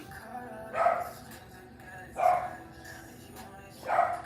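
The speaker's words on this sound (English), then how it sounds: "My dog is barking." A dog in a house barks in three separate bursts spaced about a second and a half apart, moderately loud against a quiet indoor background.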